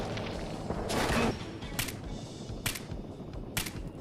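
Gunfire in Fallout 4 during a defensive fight: a loud burst of shots early on, then three separate sharp reports spaced about a second apart over a low background rumble.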